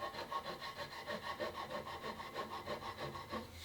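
Sandpaper works back and forth over a wooden stock on a Ruger 44 carbine being refinished, a quiet, rhythmic rasping of regular even strokes heard up close with no voices.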